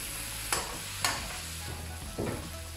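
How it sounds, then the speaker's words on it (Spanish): Cabbage sautéing in a pot with garlic and onion for cocido madrileño: a few sharp stirring scrapes and clatters over a low, steady sizzle, with no talking. "El repollo. Vamos a rehogarla un poquito."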